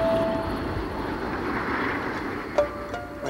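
A passenger train rumbles steadily as it slowly pulls away from a station, with a continuous low mechanical drone and a few sharp squealing tones near the end.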